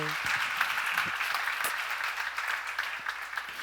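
A crowd claps steadily, a dense patter of many hands sustained throughout, with a brief voice at the start.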